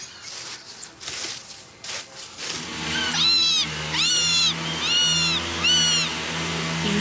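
A person imitates a common buzzard's mewing cry four times in a row. Each call is a loud, descending, whistled squeal heard close up, coming after a few seconds of soft rustling and handling noise.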